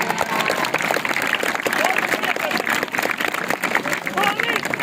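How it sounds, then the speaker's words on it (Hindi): Schoolchildren clap loudly at a school magic show, a busy, uneven burst of applause lasting about five seconds with a murmur of young voices and chatter mixed in. "जोर से तालियां बजाएं सबको"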